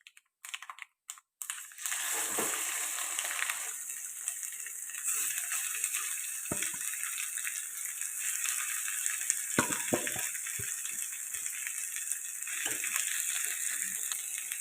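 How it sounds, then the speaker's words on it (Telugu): Ground gongura chutney fries in a tempering of spices, giving a loud, continuous hiss and sizzle after a brief quiet start, with faint scraping clicks as it is stirred. "పోపులో బాగా కలిసేలాగా కలుపుకుంది ఒక నిమిషం పాటు ఇలా ఫ్రై చేసుకుంటే ఎక్కడైనా తడి గట్టా ఉంటే మనకి వేగిపోతుంది"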